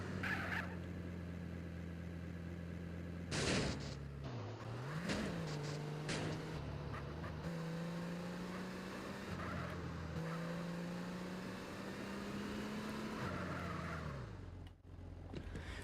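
Car driven in the video game GTA San Andreas Definitive Edition while delivering vehicles, a steady low engine drone with revs rising and shifting, a few sharp clunks and bumps over it, faint and continuous.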